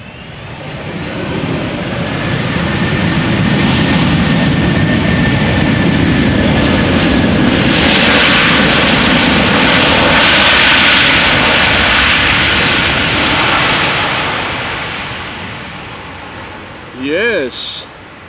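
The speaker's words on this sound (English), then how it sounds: "finally, a little bit of reverse thrust being applied there" Delta Airlines Airbus A330-300, 16 years old, landing with reverse thrust applied, a loud roar that swells and then fades. A voice speaks briefly near the end.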